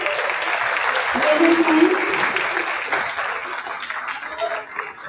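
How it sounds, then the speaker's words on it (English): Audience at a real estate professionals' association chapter event applauding current and past chapter presidents, dense sustained clapping that swells and then thins, with voices mixed in. "Give them a big round of applause."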